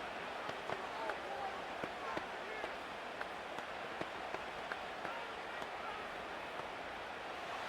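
A stadium crowd roaring in the Madden NFL 25 video game before a third-and-goal play between the Browns and Ravens, a broad, steady, distant din with occasional sharper peaks, heard beneath a commentator's voice.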